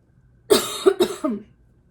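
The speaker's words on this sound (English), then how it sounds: "Hold on, I'm going to cough." Two quick, close coughs in a row, sharp and throaty, with near silence before and after.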